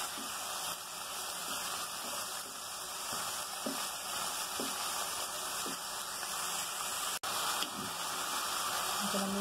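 Lentils and rice fry in a pan for egg khichuri, giving a steady soft sizzling hiss throughout with a few light stirring clinks, fairly quiet and continuous.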